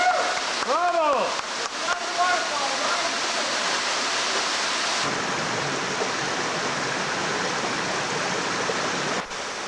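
A waterfall in a Hawaiian gulch pours steadily, a broad constant rushing hiss close by, with a brief voice-like sound near the start.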